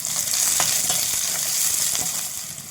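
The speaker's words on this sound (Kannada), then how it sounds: "ಒಗ್ಗರಣೆ ಮಾಡ್ಕೊತಾ ಇದ್ದೀನಿ" Dry red chilies and garlic temper in hot oil for a homemade poha corn mixture, giving a close, continuous sizzle and spatter with faint stirring clicks and no talk.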